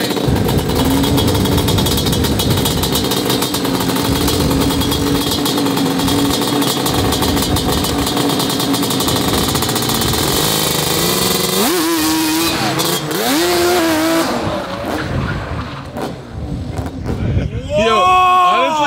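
Drag-spec Yamaha Banshee two-stroke motorcycle revs hard and loud, a raspy, near engine whine that climbs and falls in repeated sweeps, with excited people talking over it.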